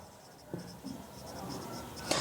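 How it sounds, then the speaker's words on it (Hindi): A pen scratches across paper while someone works out a maths solution, making soft, close strokes in short bursts with small gaps between them. "तो हम यहाँ लिखेंगे पहले"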